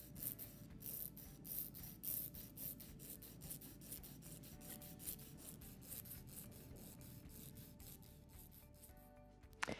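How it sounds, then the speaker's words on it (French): A nail file rasps against a fingernail in quick, regular back-and-forth strokes, close and quiet, for several seconds with no talk, ending in a brief knock. "Je viens de finir le limage"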